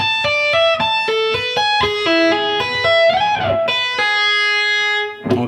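Electric guitar tapping intro in the style of a 1990s rock lead, its second bar played slowly: clear, bright sustained notes stepping up and down one at a time with a slight bend near the end, loud and close with no talking.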